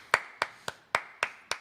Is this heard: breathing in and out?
no